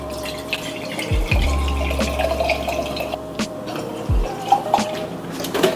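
Vodka poured into shot glasses, a short liquid trickle with light drips and a few soft low thumps of glass being set down, fairly close, with no talking.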